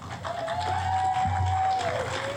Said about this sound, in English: please give a huge round of applause and welcome to Rajni Edens